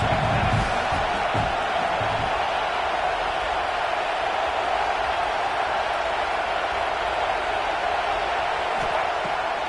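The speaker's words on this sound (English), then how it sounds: "Big 3rd down as the crowd gets behind this defense." A football stadium crowd roars steadily behind the defense on a big third down, a dense, constant wash of cheering and noise that holds loud and unbroken throughout without a break.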